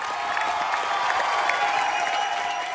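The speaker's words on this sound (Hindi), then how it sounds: "अपर दिव्यांश के लिए जोरदार तालियां हो जाए।" A studio audience at a television entertainment show breaks into sustained, even applause mixed with a light crowd roar and scattered cheers.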